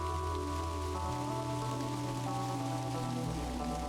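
In the video game Kathy Rain, steady rain hisses as a soft, continuous wash beneath sustained musical tones.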